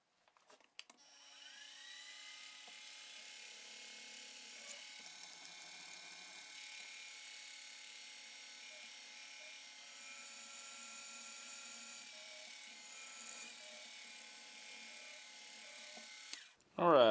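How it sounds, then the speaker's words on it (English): A drill press boring a pin hole through the frame handle of a forged Bowie knife, a steady high-pitched whine running continuously for about fifteen seconds before stopping abruptly. "let's go over to the drill press, get a hole drilled, get the pin put through it"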